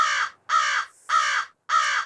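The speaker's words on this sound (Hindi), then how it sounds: "ये तो सच में कौवा कां कर रहा है।" A crow caws four times in a steady rhythm, loud and close, each harsh call clearly separated by short pauses with no other sounds.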